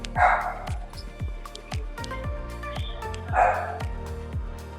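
Several dogs bark repeatedly, some yips and deeper barks echoing, with two louder bursts standing out over the rhythmic barking.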